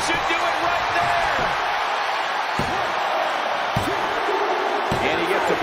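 Loud, continuous arena crowd roaring and cheering at a 2024 WWE Iron Man wrestling match between Brock Lesnar and Brody King, a dense wall of noise with sharp slams and bursts of noise rising out of it.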